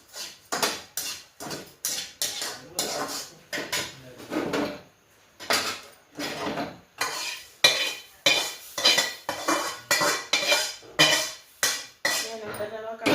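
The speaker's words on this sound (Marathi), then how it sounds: "बघा असा लालसर रवा भाजून घ्यायचा" Semolina (rava) is dry-roasted in a pan with a little oil for upma, a spoon scraping and stirring in quick, regular strokes against the metal, close and fairly loud with brief pauses.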